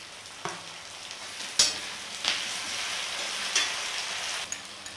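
Tomatoes and chillies fry together in a pan with a steady close sizzle, broken by a few sharp clinks and scrapes of stirring that flare briefly above the hiss.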